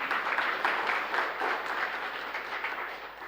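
Audience applause after a presentation at a women in financial markets conference, a steady wash of many hands clapping at moderate level throughout, with no talk over it.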